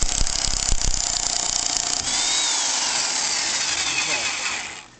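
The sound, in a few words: electric impact wrench removing a nut on a 1983 Mercedes 300SD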